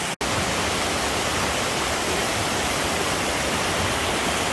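A stream at a water crossing on the Appalachian Trail rushes in a steady, dense broadband wash from a brief start onward, close and continuous with no voices.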